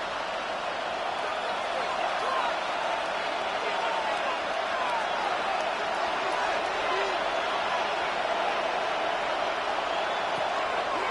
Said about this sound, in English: And they're going to hear it from this crowd.